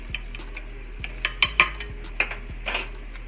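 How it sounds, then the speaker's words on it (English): A utensil stirs heavy cream into a Cajun cream sauce in a pan, giving repeated scraping and clinking strokes against the metal over a steady low hum, with no talking. "So we add our heavy cream to this. And just kind of mix it in."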